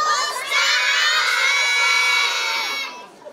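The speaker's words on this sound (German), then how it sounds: "Wir schreien jetzt einmal ganz laut, alle miteinander" Children shouting loudly together in unison at an Easter event on an island, a sustained group yell of about two and a half seconds that fades out at the end.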